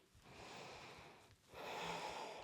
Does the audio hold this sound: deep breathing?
yes